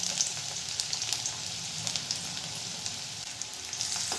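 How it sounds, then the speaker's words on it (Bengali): Chopped ginger and garlic fry in hot oil left over from frying chicken, a steady close crackling sizzle with scattered pops, over a medium gas flame, no voices. "আদা রসুন কুচিটা একটু ভালো করে ভেজে নেব।"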